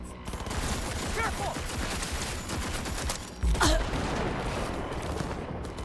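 Dense, rumbling gunfire and blasts from a Cyberpunk shootout roll on behind the player, with a heavier boom around three and a half seconds cutting through the dense, steady din.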